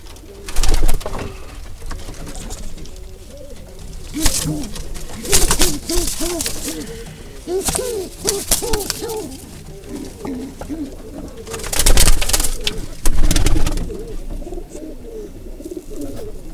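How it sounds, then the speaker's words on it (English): Young tippler pigeons coo in a loft, a steady overlapping chorus of soft throaty rolling coos, close and fairly loud, with a few brief louder flutters or bumps and no talk. "There's a bunch of young birds in here going."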